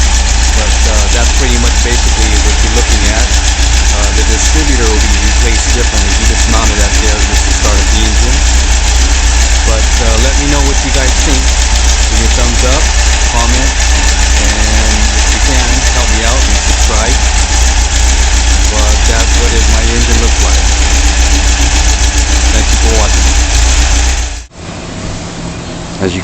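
A 2017cc VW engine runs at a steady, loud idle for about 24 seconds, close to the listener, then cuts off abruptly.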